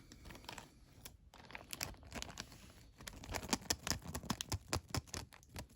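Two real vintage Star Wars toy blasters rattle and clatter inside a bag, giving a dense run of close plastic knocks and crinkly shuffling with louder bursts toward the end.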